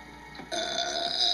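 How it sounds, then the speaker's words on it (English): A single short burp bursts out, loud and close, following a brief moment of quiet, with no talking over it. "A burp."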